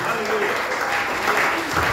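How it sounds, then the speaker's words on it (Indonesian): Church congregation clapping during a sermon, a short, busy burst of many hands, fairly loud, with voices mixed into it. "Tepuk tangan kepada Tuhan Yesus Kristus."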